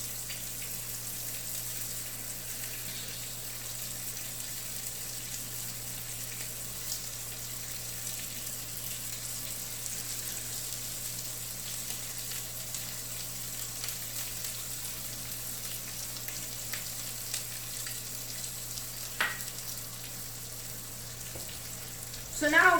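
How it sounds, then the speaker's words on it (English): Skewered kebab meat coated in olive oil sizzles steadily in a hot pan, a constant close frying hiss with small crackles and pops and no voices. "So now we're just going to let these sit here and cook, and I'm just going to keep turning them over."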